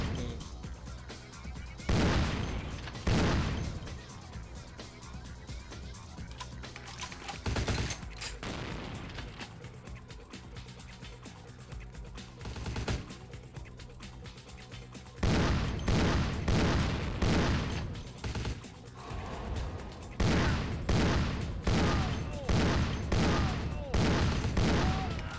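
Shotgun blasts in Vampire: The Masquerade – Bloodlines, loud and repeated in bursts with short gaps, growing denser in the second half, with a voice talking faintly underneath.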